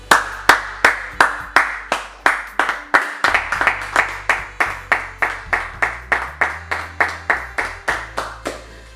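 Church congregation clapping in a steady, even rhythm of about thirty loud, sharp claps, close and continuous with no talk over it.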